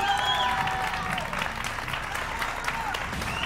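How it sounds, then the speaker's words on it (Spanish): Audience applauding a boy at a televised dance class, steady dense clapping with crowd noise throughout, faintly mixed under background sound. "Aplauso para el chico Sume Panza."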